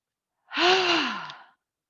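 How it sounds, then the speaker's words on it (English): A single forceful exhaled breath with a voiced 'ha' during a seated or standing yoga breathing exercise, about one second long, close and fairly loud, with a falling pitch and breathy edge, alone without talk. "as you breathe out, you're going to take it back and down with a ha"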